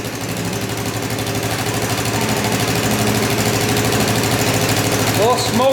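A repaired Honda three-wheeler's small engine idles with a fast, even putter, loud and close, running steadily and slightly smoky; a voice speaks over it near the end.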